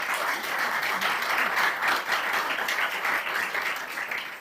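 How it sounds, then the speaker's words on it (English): An audience applauding panelists at a sports tourism congress hall: dense, sustained clapping from many people that holds steady and fades slightly at the end. "Please give a great applause for our panelists."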